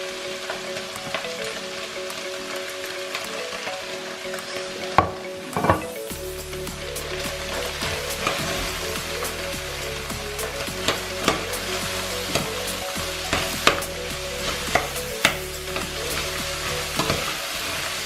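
Zucchini and carrot sizzling and frying in a pan while being stirred, a steady crackling hiss punctuated by sharp clicks of the utensil against the pan, with no talking.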